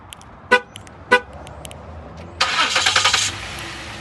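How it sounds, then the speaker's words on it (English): Remote start of a 2018 Ford Explorer Platinum with a 3.5-liter EcoBoost engine: two short horn chirps, then the engine cranks and catches in a loud burst of roughly a second before settling lower, heard close by. "Let's go ahead and do a quick remote start"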